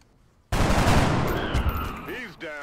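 A sudden burst of automatic gunfire in the video game XCOM: Enemy Unknown, loud and sustained after a brief quiet moment, tailing off with whooshing game effects near the end.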